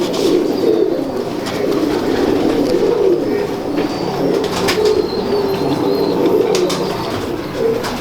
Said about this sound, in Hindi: तो ये मैं नीले कबूतर का शौक करवा रहा हूँ जी